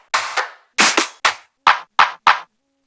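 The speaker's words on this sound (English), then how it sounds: "An extra clap here." Six short, punchy clap samples from a music production track, spaced apart with clean gaps between hits, dry and loud with no other sound around them.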